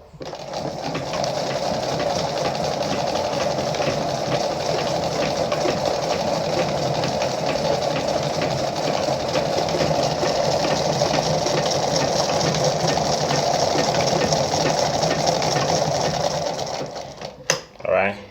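A Lada model 237-1 sewing machine runs steadily and loudly up close, its needle mechanism whirring in a continuous rapid rhythm for most of the stretch before stopping with a couple of clicks at the end.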